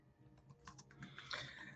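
Typing on a computer keyboard during a compliance presentation, a quick run of soft, irregular key clicks that build slightly louder toward the end, with no talking over it.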